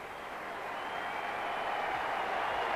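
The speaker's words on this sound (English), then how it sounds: "a warm ovation for him from this MCG crowd" A large crowd applauds steadily in a broad wash of clapping that swells slightly, heard from a distance.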